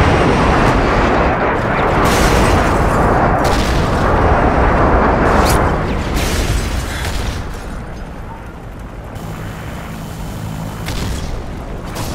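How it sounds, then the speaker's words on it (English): Airstrike explosions in Modern Warfare 3 pound in a dense, continuous barrage of loud booms and blasts, overlapping sharp detonations with a few brief lulls, and no talk over them. "Enemy airstrike approaching."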